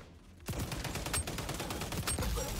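Automatic gunfire rips out in the XDefiant multiplayer shooter beta on PS5, starting abruptly after a brief quiet and continuing as loud, rapid bursts with a few sharper individual cracks.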